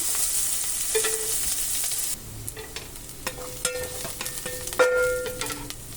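Chana dal sizzles in hot oil in a pan and is stirred, giving a steady close frying hiss broken by scraping and clinking of the spatula against the pan.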